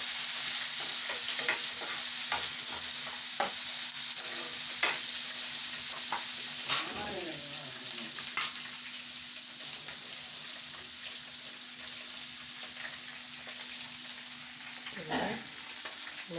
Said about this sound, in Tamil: வேர்க்கடலை இதெல்லாம் சேர்த்து இப்படி நல்லா வதக்கி விட்டுக்கோங்க. இது கூட ஒரு 3 பச்சை மிளகாயும் போட்டு வதக்கிங்க.